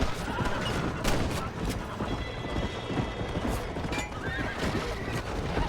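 In Red Dead Redemption, a horse whinnies over rapid clip-clopping hooves, with scattered gunfire-like cracks in a busy, continuous game soundscape.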